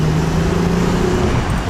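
An Acura TL fitted with new coilovers accelerates, giving a loud, close, steady engine and road drone with a low rising hum throughout.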